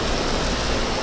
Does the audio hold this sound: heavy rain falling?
yes